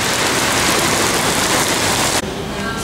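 Heavy rain pouring down during an afternoon thunderstorm, a loud, steady broadband wash that cuts off sharply near the end into quieter, thinner rainfall.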